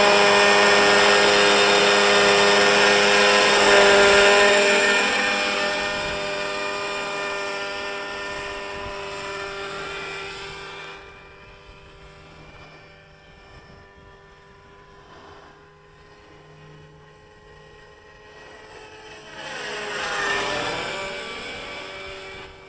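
Radio-controlled model helicopter running on 30% fuel at a model airfield, a loud, whining engine and rotor drone that fades as it moves away and then swells again near the end, with no talk.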